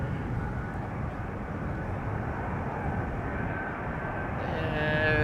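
A 20-year-old KLM Boeing 777 arriving at Amsterdam Schiphol from Guayaquil gives a steady, broad jet roar that swells slightly toward the end, at moderate distance with no talk.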